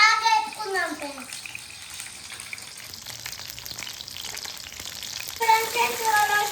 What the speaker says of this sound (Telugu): ఇప్పుడు వంకాయలు నూనెలో బాగా వేసుకుందాం ఫ్రెండ్స్.